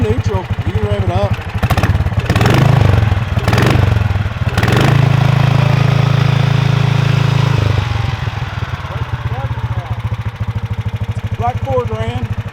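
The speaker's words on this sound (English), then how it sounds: "It's in neutral. You can rev it up." A 460cc big block engine swapped into a Yerfdog Spiderbox go-kart, idling in neutral with a loud chugging rumble, revved up in several sharp blips before settling back to idle, with voices speaking over it.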